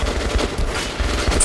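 Rapid automatic gunfire in the Metro video game, aimed at the gunner on a heavy tank: a dense, loud burst of shots rattling without pause for the whole moment.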